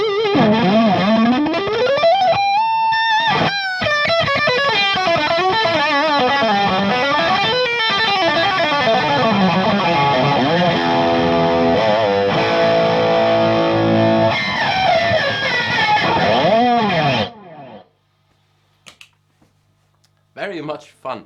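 An electric guitar through a Marshall Origin amp plays bending, gliding lead lines and chords with the amp's tilt control off and then turned all the way up, loud and continuous, then silence with a brief voice at the end.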